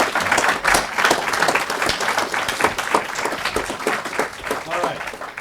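An audience at a talk on a Reagan biography claps in sustained, dense applause, with a voice heard over it.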